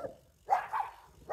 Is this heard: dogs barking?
yes